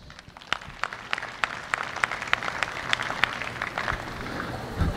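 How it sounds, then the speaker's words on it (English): A crowd claps for a class of dairy cows at a cow show, scattered individual claps rising into a moderate round of applause over a low background hum. "let's give them a nice round of applause"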